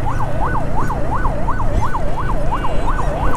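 Ambulance siren wailing in steady rising-and-falling cycles, loud and continuous over the rumble of engines in heavy traffic on a rainy road, with no talk.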